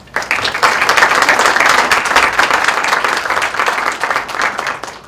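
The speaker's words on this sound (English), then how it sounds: "Please join me in giving them a round of applause." Audience applause at an awards-style recognition event, a dense, steady wash of many hands clapping that swells quickly and holds loud and close for about five seconds before easing at the end, with no talking.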